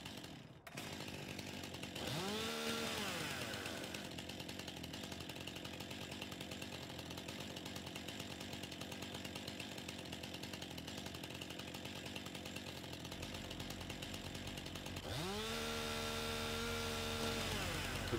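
A chainsaw cuts a tree in the farming video game Farming Simulator 19, its engine droning loud and steady throughout, revving up at the start and again near the end.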